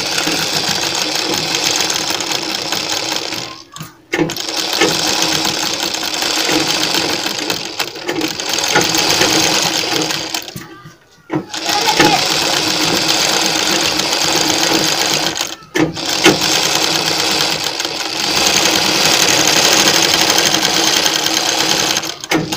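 A sewing machine stitches a lace frill onto a sleeve, running loud and close in long continuous bursts with a steady whirring rhythm, stopping briefly three times before starting again.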